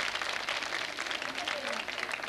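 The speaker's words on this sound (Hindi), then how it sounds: "तालियां तो बजती ही रहनी चाहिए।" Sustained applause from an audience at a Holi quiz show held at a government women's polytechnic college, a dense steady patter with some voices mixed in.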